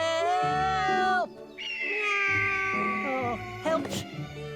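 A cartoon cat stuck up a tree gives drawn-out, wavering meows and yowls, loud and close, with short gaps between cries.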